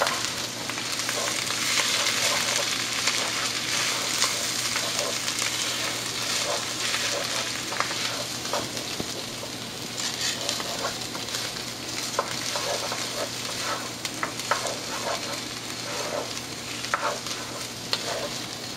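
Arborio rice is stirred in a hot, sizzling pan for paella, a steady crackling fry under repeated scraping and stirring strokes, close and fairly loud without speech.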